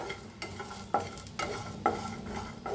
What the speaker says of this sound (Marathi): तर भाजायला लय लसूण, तीळ, जिरं, त्याच्यातच टाकूया तीळ, तीळ बी चांगलं भाजून घ्यायचं आहे